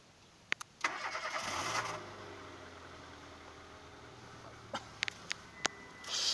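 A 1996 Renault Twingo phase 1 petrol engine cranks briefly and catches almost at once, then settles into a steady idle, heard close with a few light clicks and knocks around it.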